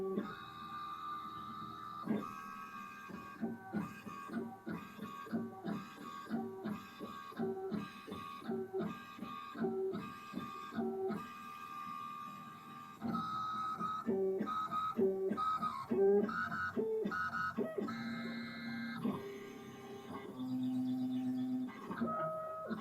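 Tormach xsTECH Pro CNC mill probing a rectangular boss to find its center: a steady run of short, evenly spaced mechanical stepping tones and beeps, loud and close, shifting pitch partway through with no talk.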